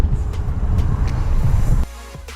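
A 2018 Fiat 124 Spider Classica is driven on Texas roads, heard from inside as a loud, steady low engine and road drone that drops abruptly near the end.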